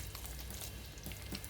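Zucchini cutlets fry in vegetable oil, giving a soft, continuous crackling sizzle at moderate volume with scattered small pops and no talking.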